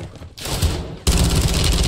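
Video game gunfire comes in rapid bursts of loud, close shots, with a brief lull before a dense, sustained volley.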